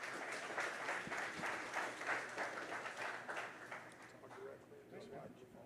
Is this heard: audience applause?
yes